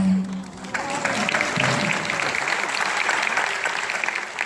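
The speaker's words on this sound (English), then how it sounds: "you really shouldn't be clapping for me." Studio audience applause during a Shark Tank appearance, a dense steady roar of clapping that swells after a brief quieter start and holds loud and even to the end.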